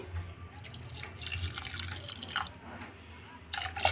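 Reserved water poured into a mashed chirraku leaf mixture in a home kitchen, a steady trickling and dripping splash running throughout, close and moderately loud with no talking.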